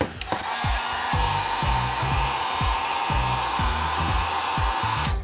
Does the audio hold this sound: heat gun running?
yes